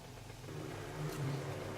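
Motorbike engine in 7 Days to Die, running with a faulty, failing sound while the bike is on fire, a low, steady hum that swells slightly, fairly faint and heard alone.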